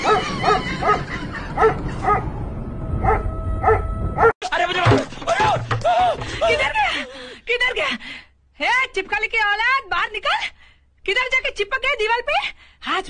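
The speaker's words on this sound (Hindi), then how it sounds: "और इंडिया में जब कोई रात को कुत्ता भौंकता है" A dog barks and yips at night in a few quick bursts near the start, then people talk loudly over the remainder.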